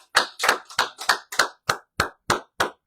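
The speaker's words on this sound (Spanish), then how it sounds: "Vamos a darle un aplauso al Señor de nuevo." A Spanish-speaking church congregation claps in unison, with ten sharp, evenly spaced claps in a steady rhythm that sound close and clear, with no voices.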